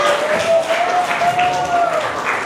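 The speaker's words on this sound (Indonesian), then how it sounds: "sekali lagi tepuk tangan buat kalian semua" An audience at an entrepreneurship seminar at a junior high school in Purworejo applauds in a dense, steady patter, with a thin whistling tone briefly riding over it.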